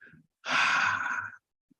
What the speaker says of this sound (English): 6, and deep exhale through the mouth.